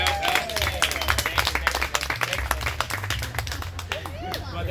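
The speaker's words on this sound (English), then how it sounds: "Would you give him a round of applause?" An audience claps and applauds at a speech event, a dense burst of claps close by with some crowd noise and voices mixed in.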